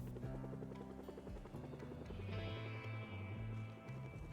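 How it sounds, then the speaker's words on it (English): A helicopter flies overhead in the zombie survival game Project Zomboid, a steady, loud drone that holds throughout, layered with a low rhythmic thrum and tonal game sounds. "Finally, after hours, the helicopter disappears."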